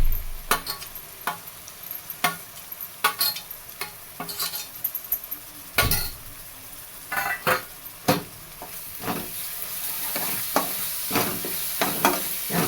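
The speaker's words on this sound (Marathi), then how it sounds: "आता हे खोबऱ्याचं वाटण केलं ते वाटण टाकून घेऊया ह्याच्यामध्ये" Coconut paste is stirred into tender jackfruit curry frying in a pan, with a steady sizzle under repeated clinks and scrapes of a spoon against the pan, close by and without talk.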